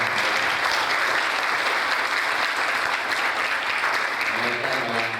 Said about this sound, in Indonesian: Mari kita beri tepuk tangan yang sangat meriah.